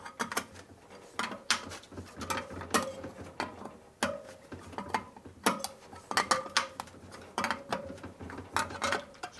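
A spoke wrench clicks and ratchets in repeated short bursts while the spokes are tightened on a bent 21-inch spool front wheel from a Harley chopper. The sound is close and fairly quiet, with no talking.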